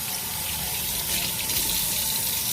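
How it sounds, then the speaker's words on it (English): Tap water running steadily and gushing over Omega J8006HDS juicer parts as they are rinsed, a constant close splashing wash with no breaks. "I want to just prove to you that this thing can be washed literally by running water."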